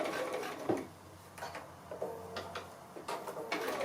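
A sewing machine stitches holly leaves along a drawn line, with a steady low motor hum and intermittent mechanical clicks and taps close by, interrupted by brief pauses and handling noises.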